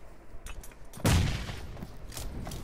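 Grenade explosion in PUBG Mobile: one sharp, loud blast about a second in, trailing into rumbling decay, set among scattered crackling gunfire at mid distance.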